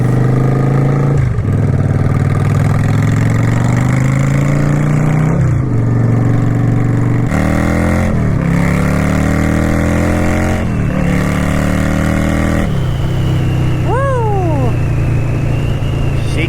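A Yamaha V-Star XVS 650 cruiser motorcycle rumbles loudly up close, pulling away and running through several gear shifts with rising revs and brief dips between each shift.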